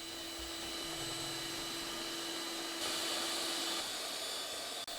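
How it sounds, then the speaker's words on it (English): An electric whisk beats coffee powder, sugar and water in a bowl, a continuous high motor whine with a steady tone that rises briefly in pitch midway, close and alone. "Then start whisking with an electric whisk or hand whisk if you're feeling tough."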